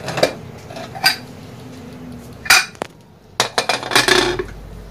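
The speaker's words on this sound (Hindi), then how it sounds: "चार सीटी बजने के बाद कुकर को हमने थोड़ा ठंडा किया और अभी हम खोल रहे हैं।" A pressure cooker being opened after cooking undhiyu, a Gujarati vegetable dish: several sharp metallic clanks and rattles of the lid and pot, close and fairly loud, spaced across a few seconds with quieter handling between.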